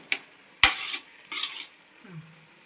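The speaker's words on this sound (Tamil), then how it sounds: "இப்போ நல்லா ஒரு கலக்கிட்டு" Mutton biriyani with lemon juice is stirred in a pot: a sharp metal knock, then two brief scraping, swishing strokes of a ladle, close and fairly loud, followed by a quiet tail.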